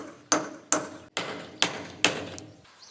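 Five sharp metallic hammer blows on a 32mm socket driving out a boat's cutlass bearing, evenly spaced and close, each ringing briefly before the next strike.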